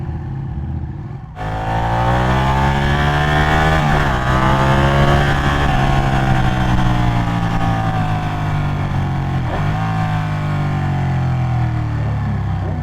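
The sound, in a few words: superbike accelerating loudly in city street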